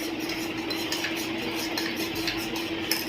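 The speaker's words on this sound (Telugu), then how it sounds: "దీన్ని గడ్డలు కట్టకుండా ఇట్లా కలుపుతూ ఉండాలండి." A spoon stirs badam milk powder into liquid in a pot or vessel, producing a steady scraping and clinking that continues without speech.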